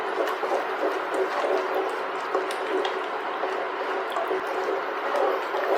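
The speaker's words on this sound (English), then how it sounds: "We're going to go ahead and stir this up." Thick sloppy joe sauce with sriracha is stirred in a pan, giving a steady, loud, wet squishing churn that carries on without a break.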